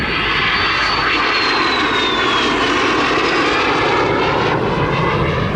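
A Norwegian de Havilland Vampire FB52 jet with a Goblin turbojet flies at the Southport Airshow, giving a loud, steady roar with a high whine that slides downward as it passes, heard alone.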